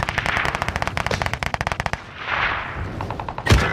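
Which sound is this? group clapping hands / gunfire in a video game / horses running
gunfire in a video game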